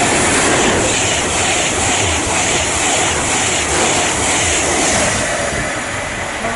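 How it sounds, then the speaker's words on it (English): A Class 390 Pendolino electric train passing through Watford Junction station, a loud, steady rush of wheels and rail noise sustained close by. "Class for now is a Pendolino"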